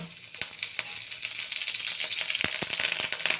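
Curry leaves frying in hot coconut oil in a pan, a steady bright sizzle with sharp crackling pops scattered throughout, close and fairly loud.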